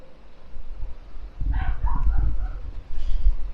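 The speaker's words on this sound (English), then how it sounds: "You are such a bad dog." A dog gives a short run of close, gruff barks and yips with rumbling breaths between, fairly loud against a quiet background, with a final burst near the end.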